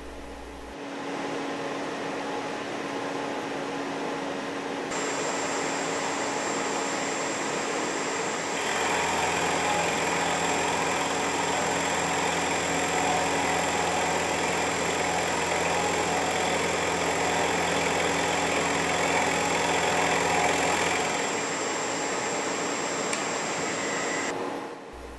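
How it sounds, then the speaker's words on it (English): A milling machine takes a shallow finishing climb cut on a part, a steady mechanical hum and whine that thickens and brightens partway through as the cutter engages, then settles back near the end; no talk. "For the finishing cut, move to the final depth of 122 thousandths"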